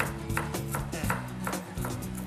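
Rapid, regular knife chops on a cutting board, about eight firm strikes in quick succession, close and clear with no talking.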